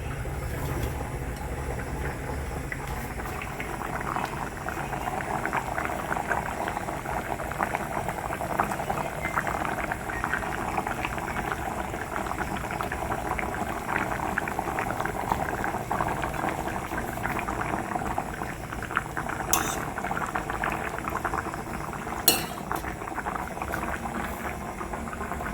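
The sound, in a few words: dal lentils boiling in a pot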